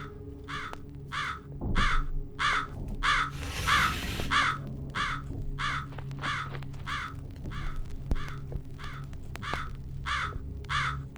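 A crow in the video game Jisatsu caws in a steady, evenly spaced series of harsh calls, about a dozen in a row, over a low eerie ambient drone.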